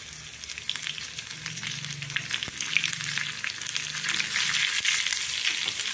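Raw mango pieces sauté in hot oil with curry leaves, dried red chillies and a pinch of asafoetida, giving a continuous soft sizzle and crackle with occasional stirring scrapes, close and fairly quiet.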